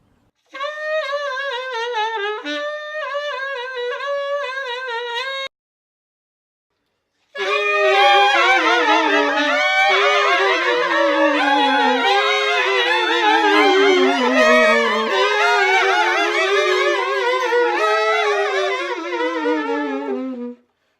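A saxophone plays the laugh effect with rapid ka tonguing: a short tongued passage, a pause, then a long, loud run of quick stuttering notes that slide downward like laughter, played solo.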